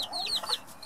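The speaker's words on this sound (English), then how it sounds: "the Silkie mother is perfect" A Silkie hen clucks softly to her chicks, with several high peeping chirps layered over her low clucks in a close, busy burst.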